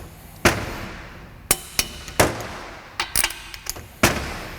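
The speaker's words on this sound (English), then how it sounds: "Now I'm going to torque them to 100 foot-pounds." A torque wrench tightens Ford 8.8 axle bolts toward 100 foot-pounds, giving a series of sharp, close metallic clicks and snaps at uneven intervals over a quiet workshop background.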